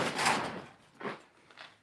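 A prototype car door hinge is worked back and forth, giving three short scraping creaks, the first longest, close and fairly quiet with no talk.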